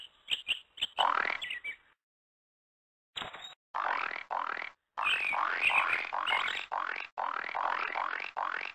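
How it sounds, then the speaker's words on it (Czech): Croaking of a pink frog in the game Ve stínu havrana: a few short clicks, then bursts of raspy, chirping croaks in quick repeated pulses with brief pauses, close and fairly quiet with no talking. "Obyčejná žába, jakých jsou miliony."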